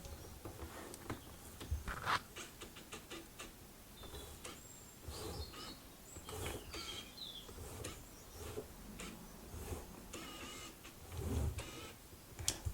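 A Canon EF-S 18-200mm lens autofocus motor whirs in short, faint mechanical bursts and clicks, repeating irregularly across the quiet stretch.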